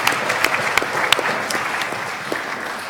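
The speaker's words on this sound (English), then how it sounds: "And now they deserve your applause before." An audience at a WTO trade forum panel claps in a steady burst of applause that fills the room, with no voices over it.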